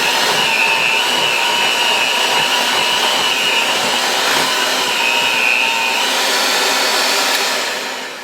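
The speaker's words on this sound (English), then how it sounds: "you can increase the speed of your mixer and just start incorporating a little bit more air into the actual frosting" Electric hand mixer whipping cream cheese frosting for a chocolate cake at high speed, a steady loud whirring motor drone held for about seven seconds before easing off at the end, with no talk over it.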